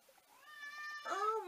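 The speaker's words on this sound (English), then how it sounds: "Y'all hearing that cat, ain't it?" A single drawn-out cat meow, faint at first and then rising into a louder, wavering cry near the end.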